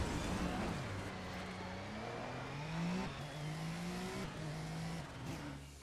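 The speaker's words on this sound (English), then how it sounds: "I was expecting a bit more engine noise" A race car engine in the GRiD racing game drones and revs through gear changes, pitch climbing and dropping repeatedly with faint tire noise, steady and fairly quiet throughout without voices.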